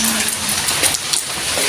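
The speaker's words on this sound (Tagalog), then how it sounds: "Raining." Rain falls steadily outdoors as a dense, loud hiss with scattered drip and patter detail, continuous from start to end.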